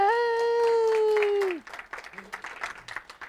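Light, scattered clapping from a small group at the close of a morning webinar session, coming in right after a long, drawn-out cheering voice.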